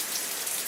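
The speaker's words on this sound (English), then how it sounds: "Raindrops were now falling from the low-poly clouds overhead" Steady broadband rain patters down over a low-poly landscape of sand and water, a dense even hiss of drops close by with no voices.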